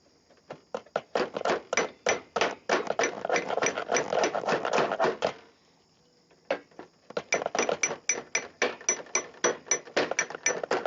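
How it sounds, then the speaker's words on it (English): A body hammer strikes against a dolly to flatten the bottom edges of metal gutter ends, giving rapid bursts of sharp metallic taps, a brief pause, then another steady run of close, ringing blows. "I used a body hammer and dolly to flatten the bottom edges of the gutter ends."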